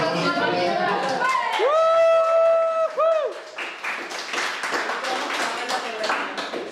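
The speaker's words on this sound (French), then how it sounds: "On applaudit" A film crew applauds at the wrap of a shoot for a making-of, with scattered clapping and cheers that rise after music and voices, busy and close, mixed with chatter.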